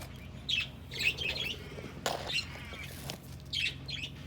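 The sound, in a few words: chicken squawking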